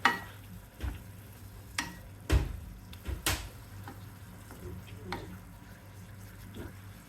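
Chevdo is tempered and stirred in a pan, with scattered scraping knocks of a spoon against the pan over a low, soft sizzle, and faint background sounds in between.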